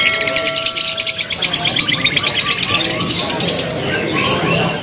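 Garut white-eye (pleci) birds calling at a bird market, rapid high chirps and trills repeating in quick bursts, fairly close, with market murmur and other bird sounds around them.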